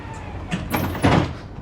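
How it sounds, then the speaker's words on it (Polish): Łódź tram doors slide and thud shut with a pneumatic hiss and a couple of mechanical knocks, heard up close inside the vehicle. "Sprawdźcie jak się ładnie drzwi otwierają"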